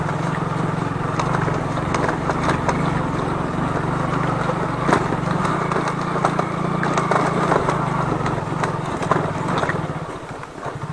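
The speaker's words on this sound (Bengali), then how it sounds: "এই জায়গাটুকু পুরোটাই 1 নম্বর গিয়ারে এক টানে উঠিয়ে ফেললাম।" An old-model Hero Glamour motorcycle engine labours steadily in first gear, climbing a badly broken, jolting mountain road near Chatakpur, Darjeeling, with a continuous close drone and intermittent rattling clatter throughout.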